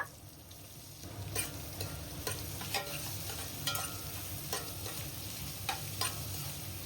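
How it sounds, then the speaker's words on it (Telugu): Sliced onions and green chillies fry with biryani spices in a pan, a soft steady sizzle broken by repeated sharp taps and scrapes of a stirring spoon, close and fairly quiet with no talking. "ఇప్పుడు ఈ ఉల్లిపాయల్ని ఫ్రై అవనివ్వాలి"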